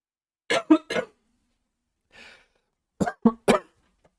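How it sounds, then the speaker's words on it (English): A lone person coughs in two close clusters of three sharp, dry bursts, separated by a faint breath in a quiet room. "At 18 minutes in, coughing"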